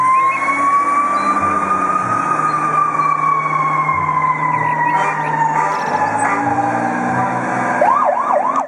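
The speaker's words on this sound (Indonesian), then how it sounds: "Mobil pemadam kebakaran," A fire engine siren sounds loud and close, holding a steady wailing tone before breaking into quick rising-and-falling whoops at the end.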